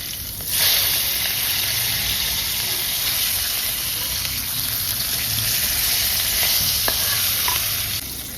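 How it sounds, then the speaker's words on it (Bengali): A piece of rohu fish frying in mustard oil in a pan, giving a loud, steady hiss and sizzle close up with a few soft clicks of it being turned over, no talking. "এখন রুই মাছের পিসটা আমি উল্টে দিব।"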